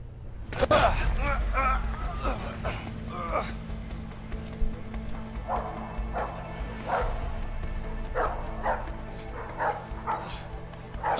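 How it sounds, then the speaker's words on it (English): Doberman dogs in the video game A Way Out bark in repeated sharp bursts that come and go over a low game soundscape, while players talk excitedly over them. "Oh, those are Doberman."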